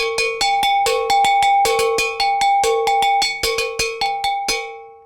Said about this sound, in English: And so the bells sounded like this.